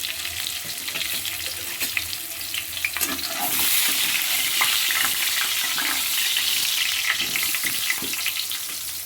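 Cut potatoes fry in hot oil with salt and turmeric, a loud steady sizzle that swells partway through, with occasional stirring scrapes and no voices.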